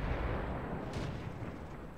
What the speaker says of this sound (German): Gut vorgezielt, aber scheiß Schuss von der Kanone.